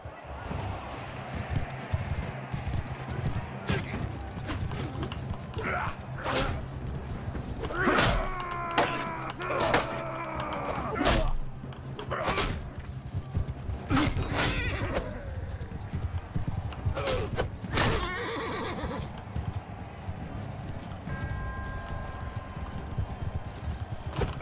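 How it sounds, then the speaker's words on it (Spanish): Horse hooves clip-clop steadily in Mount and Blade 2 Bannerlord, a medieval combat game, with occasional whinnies and snorts, thuds and clanks layered over a dense ambient battlefield backdrop. "Mira, un caballo, un cosiano."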